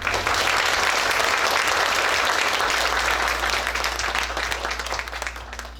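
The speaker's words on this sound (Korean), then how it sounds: "한 분 한 분 소개해 드릴 때마다 큰 박수로 환영해 주시기 바랍니다." Sustained applause from an audience at a groundbreaking ceremony for a public children's rehabilitation medical center in Daegu, loud and dense from the start, easing slightly toward the end, with a low steady hum underneath.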